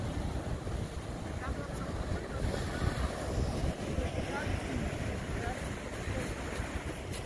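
Rough surf roars continuously at Point Joe, Pebble Beach, with strong wind buffeting the microphone, a steady wash of crashing waves close by, with faint voices underneath.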